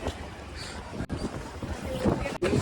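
Cold morning wind at Har Ki Pauri on the Ganga in Haridwar, a steady broadband rush buffeting the microphone with gusts, with faint background activity and no clear speech.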